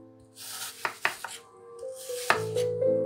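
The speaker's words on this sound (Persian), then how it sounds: "سیب ها رو پوست بگیر و بعد به صورت مکعب های تقریبا هم اندازه برش بزن." A knife chops peeled apples into roughly equal cubes on a board, giving several sharp, close knocks spread irregularly across a few seconds with quiet pauses between them.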